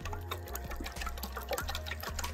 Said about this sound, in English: a few splashes of coconut milk.